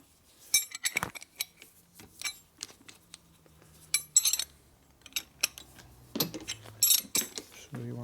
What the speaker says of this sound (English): So there's my spark plug wrench.